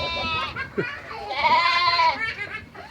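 Several lamb bleats, wavering and fairly close, with a longer bleat in the middle, amid light background voices.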